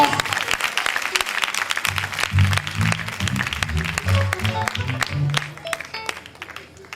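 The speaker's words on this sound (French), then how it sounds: "Un peu d'encouragement, acclamation" Audience applause and cheering at a book signing for a woman singer, a dense wash of clapping throughout with a few voices calling out over it and a low murmur beneath.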